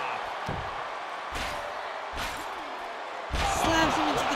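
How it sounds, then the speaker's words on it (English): A wrestler slams into a steel Hell in a Cell cage in the video game WWE 2K23, giving heavy metallic crashes and rattling amid crowd noise, with a commentator talking over it. "Slams him into the cage that's going to give way very soon."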